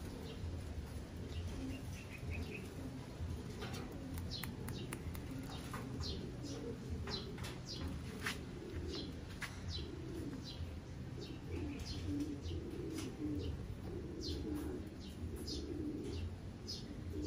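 Racing pigeons coo softly in a provincial loft while being vaccinated, with low repeated cooing, scattered chirps and faint wing flutters against quiet background noise.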